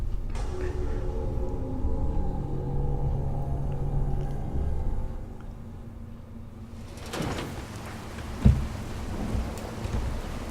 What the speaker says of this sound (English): Oh, well now it's raining.